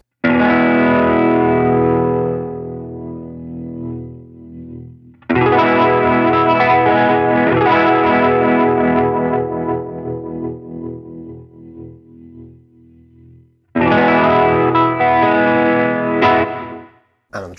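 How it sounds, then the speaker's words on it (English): An electric guitar through a TC Electronic Vibraclone Leslie rotary pedal on its Chorale voice rings out three strummed chords, each swirling and decaying as the rotor speed climbs, loud and close. "on the Chorale voice, if I set the speed all the way to zero, I'll strum a chord and increase that so you can hear the range of speed available"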